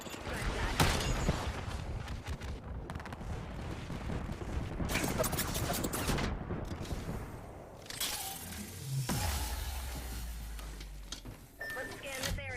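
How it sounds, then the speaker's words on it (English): Gunfire in the battle-royale video game Apex Legends: several loud bursts of shots and sharp cracks come in clusters, with a low rumble near the end and talk mixed in. "Gunshot."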